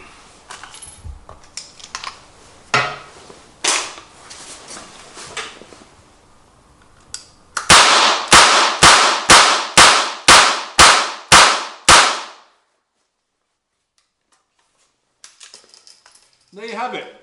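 A Rossi Circuit Judge .22 revolver carbine firing RWS subsonic rounds, eight sharp, loud shots in a fast, steady string after a few scattered clicks and handling noises, then silence with a faint voice at the end.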